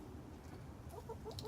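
Chickens cluck softly in a backyard flock of young birds, a few quiet short calls toward the end over a low steady background hum.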